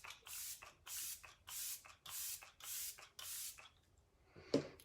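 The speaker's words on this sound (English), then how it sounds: "you want to spray your face generously with this and let it dry" Let It Set setting spray misted generously onto a face in repeated short bursts, about eight evenly spaced hissing puffs close to the microphone, followed by a brief soft knock at the end.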